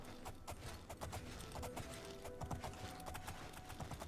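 A horse's hooves clip-clop in a quick, even rhythm as it is ridden in the video game Oblivion, the hoofbeats fairly quiet and repeating steadily throughout.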